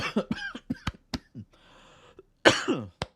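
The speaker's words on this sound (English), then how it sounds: "That's an annoying cough." Scattered clicks and faint noise, then a sudden close, harsh cough near the end, followed by a brief sharp click.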